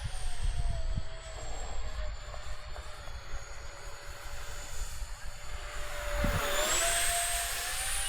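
A model NGAD jet aircraft flies at full speed, its electric whine steady overhead and rising into a louder, brighter pass near the end over a rumbling outdoor background.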